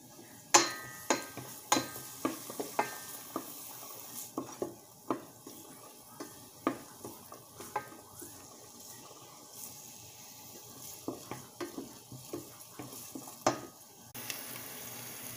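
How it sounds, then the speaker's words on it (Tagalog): Onion and garlic sautéing in a pan for sardine misua soup, a soft sizzle broken by a regular series of sharp scraping taps from stirring, close and without talk. "Ngayon, magigisa na po ako. Igigisa ko na po yung onion."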